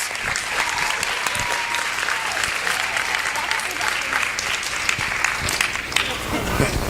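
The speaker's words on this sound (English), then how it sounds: "So give them a hand of applause." A community audience at a holiday production event applauds the helpers, with dense, sustained clapping from a sizeable crowd filling the room at a steady level, faint murmurs mixed in underneath.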